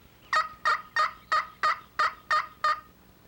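A slate turkey call worked with a wooden dowel imitates a hen turkey, giving eight evenly spaced, bright yelping notes in a steady rhythm, close and clear with no talking.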